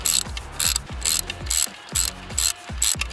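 A ratchet wrench works a stuck bolt loose on a Ford during thermostat repair, giving about seven rapid clicking bursts in a steady back-and-forth rhythm, close and alone with no talking.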